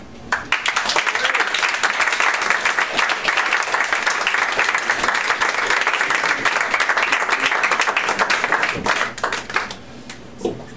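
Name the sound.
audience applause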